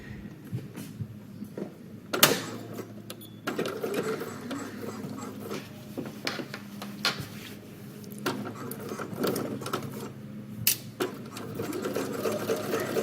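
A sewing machine stitches a V neckline on a New Look 6292 garment, running in bursts and pausing to turn the corner, with mechanical whirring and clicks close by.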